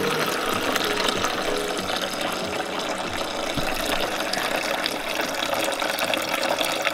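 Clear water gushes steadily from a car's hose as it drains, a loud, continuous, close rushing and splashing with no pauses and no speech.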